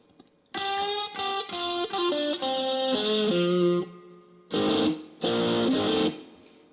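Electric guitar plays a bluesy comping pattern in F with hammer-ons into the major third, giving a lightly distorted, effected tone. Choppy chord stabs and short phrases alternate with brief gaps, sounding close and fairly loud with no talking.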